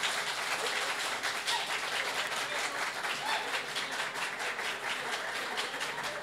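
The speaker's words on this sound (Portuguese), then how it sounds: "Vamos aplaudir o trovador da lá da terra de Caxias" An audience applauds the trovador Bolinho with sustained, even clapping from a moderate crowd, steady and unbroken for several seconds.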